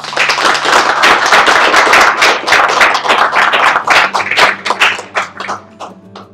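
Tremendous applause from the audience at a diplomatic agreement signing ceremony in St. Kitts and Nevis, dense loud clapping from many hands that fills the room and thins toward the end.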